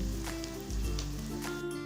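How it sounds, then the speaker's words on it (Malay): Steady, dense sizzle of a thinly sliced ingredient frying in a pan while cooking a Kerala-style prawn roast, continuous and close without any talk. "Kita goreng sehingga warnanya bertukar menjadi perang keemasan"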